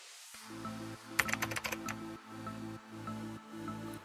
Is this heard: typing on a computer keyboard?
yes